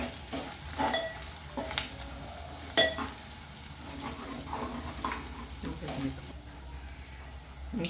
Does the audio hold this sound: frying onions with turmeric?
yes